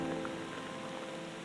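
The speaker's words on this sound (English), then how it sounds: "This rain doesn't appear to be stopping," Steady rain patters at the Allegheny Reservoir, a continuous soft hiss of drops with no voices, moderately quiet and even throughout.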